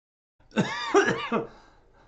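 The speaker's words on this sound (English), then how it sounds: "Also coughing fit." A person close by coughs and clears their throat in three rough, throaty bursts, each a little shorter than the last.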